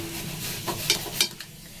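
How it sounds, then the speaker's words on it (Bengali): Fork scraping and tapping on a plate while cutting food into pieces, a few short clinks over a soft background hum, close and quiet. "তার জন্য আমি দেখুন একটু করে পিস করে দিচ্ছি।"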